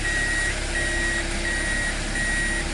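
A 2003 Toyota Corolla with transmission circuit faults in reverse gear, giving four evenly spaced, steady reversing beeps over a constant loud hum.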